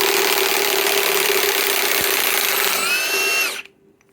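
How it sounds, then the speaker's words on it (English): A Ridgid high torque impact wrench removing a fastener, a loud steady mechanical whir with a constant tone for about three and a half seconds, a rising whine near the end, then an abrupt stop into near silence. "we remove it with the rigid high torque impact wrench"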